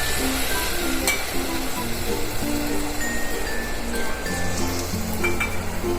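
Water is poured from a bowl into a pressure cooker holding hot ghee for vegetable khichdi, giving a steady, loud rushing splash with a sizzling hiss that runs throughout.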